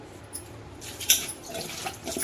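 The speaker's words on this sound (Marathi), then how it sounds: "एकदा दोन पाण्यात आपण धुवून घेऊया" Water sloshing and dripping as drumstick pods are rinsed in a bowl of water, soft splashes and trickles with one brighter splash in the middle, fairly quiet and close.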